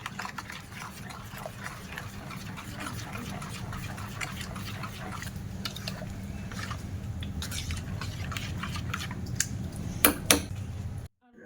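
Rice dosa batter being stirred with water and salt in a bowl, a continuous wet slurping swish with light spoon scrapes against the bowl and a couple of louder clinks near the end.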